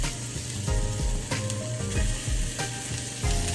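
Breakfast burrito filling frying in a hot pan, a loud, close crackling sizzle with sharp pops and the scrape of stirring, rising and falling in bursts.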